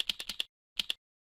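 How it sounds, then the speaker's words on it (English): Quick keystrokes on a computer keyboard, two short bursts of about four and then two crisp clicks separated by a brief pause, close and clear with no other sound. "To add someone from outside your organization, type their email address."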